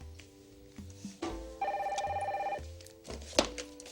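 An indoor telephone bell rings once in a clear warbling burst of about a second, fairly faint and set against a quiet room with small bumps of movement around it.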